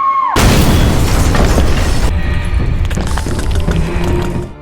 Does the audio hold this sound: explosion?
yes